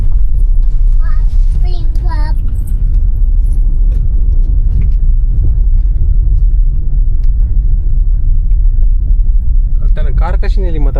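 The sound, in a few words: car driving, engine rumble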